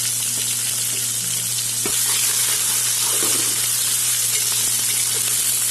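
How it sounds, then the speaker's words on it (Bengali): Chopped onion and ginger-garlic paste fry in hot oil with whole cumin, bay leaf and whole garam masala, giving a loud, steady, close sizzle that runs without a break, with no talking. "এখন দিয়ে দিলাম পেঁয়াজ কুচি, আদা রসুন বাটা"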